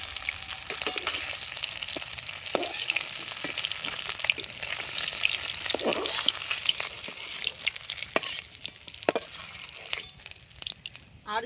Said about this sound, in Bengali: মাছগুলো আমার লাল লাল করে ভাজা হয়ে গেছে